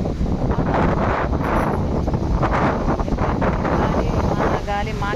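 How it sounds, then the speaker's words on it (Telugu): Strong storm wind buffets the microphone with continuous loud rushing and gusting noise throughout, during a cyclone with rain. "చూడండి గాలి ఎలా వేస్తుందో."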